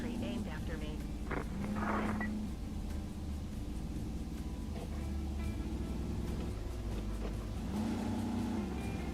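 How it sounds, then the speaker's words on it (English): A video game vehicle's engine rumble drones throughout, rising and falling slightly as if revving, with occasional brief higher whines layered over the low noise. "I love the engine sound on this thing."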